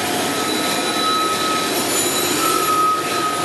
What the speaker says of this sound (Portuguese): Essa aqui é a locomotiva também do trem. Ela não é tripulada,